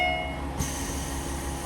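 A JR Kyushu train on the Hisatsu Line rumbling steadily nearby at a station, a low continuous roar of wheels on rails with a faint hum, no voices.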